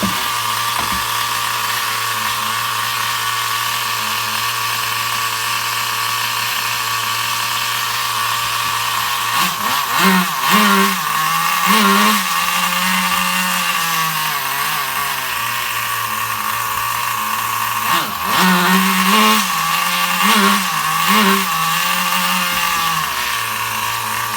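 A Duratrax Overdrive ST 4WD nitro RC car engine, running lean, buzzes steadily at high pitch, with brief revving surges partway through and again near the end, loud and close with no voices.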